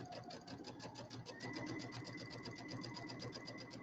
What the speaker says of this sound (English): So I'm going to again drop my needle, and I'm going to right into the fabric